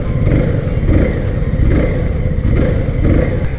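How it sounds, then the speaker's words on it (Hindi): A Keeway K300RR motorcycle with an underbelly silencer revs in quick bursts, its engine rising and falling in about four loud, close throttle blips. "इसी को बोलते हैं गाइस क्विक थ्रॉटल रिस्पॉन्स।"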